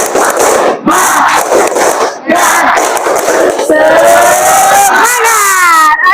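A school class does a 'tepuk semangat' clapping chant as an icebreaker: loud, close group shouts and claps in short bursts with brief pauses, ending in a drawn-out collective cry.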